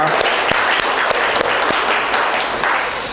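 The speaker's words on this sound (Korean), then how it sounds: "감사와 영광의 박수 올려드리겠습니다" Congregation applause at a Sunday worship service at Singapore Full Gospel Church, a dense, steady wash of many hands clapping that fills the room at full volume, with a faint voice underneath.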